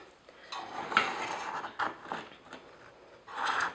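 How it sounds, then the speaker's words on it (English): The back of a metal butter knife scrapes around the edge of a metal cake pan holding a homemade chocolate cake, giving several short, close, scratchy metallic strokes with brief pauses between them. "I'm just going to use the back of the butter knife just to go around the cake pan, just to make sure that it's free."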